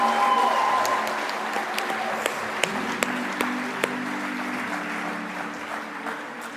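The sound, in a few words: applause from an audience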